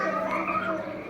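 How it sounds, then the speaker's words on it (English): Recorded frog croaking played in a guess-the-sound classroom game, a short steady soft croak lasting about a second with no talk over it. "Frog."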